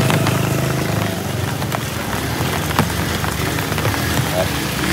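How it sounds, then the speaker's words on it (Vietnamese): Heavy rain pours steadily in Hanoi during flooding from the Red River, a dense, loud, continuous hiss and patter with a faint engine rumble beneath it. "Bây giờ mưa to."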